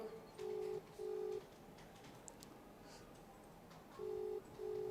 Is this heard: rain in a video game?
no